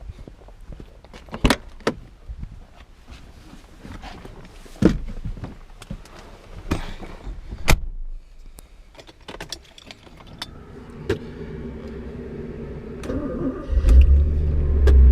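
Keys jangle and click amid quiet handling noises, then a 1990 Porsche 928 S4 engine cranks and catches near the end, settling into a low, steady idle rumble.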